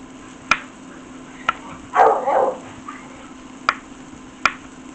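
Two dogs, one big and one little, squabble over bones in a kitchen, a short burst of growling and yapping between sharp isolated clicks, fairly close against a quiet room hum.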